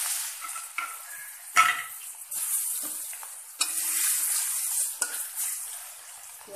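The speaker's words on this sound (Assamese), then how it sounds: "ৰঙা হোৱালৈকে ভাজি ল'ম" Onions go into hot oil with five-spice seeds, in a pan where fish was just fried, giving bursts of bright sizzling that swell and fade. Stirring scrapes and spatters recur every second or so.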